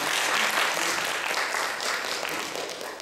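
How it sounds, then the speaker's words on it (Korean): Audience applause welcoming a judge being introduced at a children's speaking contest, a dense, steady wash of many hands clapping close and loud for the whole stretch, easing slightly toward the end. "박수로 환영해 주십시오"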